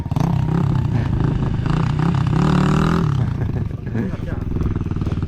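A motorcycle revs hard during wheelie practice, its close, loud engine note climbing and holding before dropping back to a rough idle, with voices talking over it.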